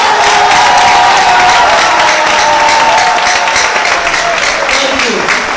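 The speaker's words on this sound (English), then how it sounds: "Clap again." Graduation audience at Mbarara University's medical oath ceremony applauding in a large hall, a dense, steady wash of clapping and crowd noise with cheering and voices mixed in throughout.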